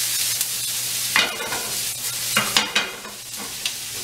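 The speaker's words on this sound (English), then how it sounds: "Now we'll saute this until brown" Spam chunks and green pepper browning in a sauté pan over medium heat, hissing steadily up close while a utensil scrapes and stirs in several quick bursts.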